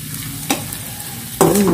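Meat and spaghetti sauce fry in a pan with a steady low sizzle, broken by two short bursts of stirring and scraping.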